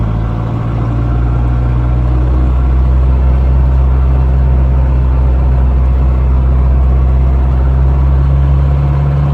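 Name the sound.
4x4 vehicle engine revving, accelerating through gears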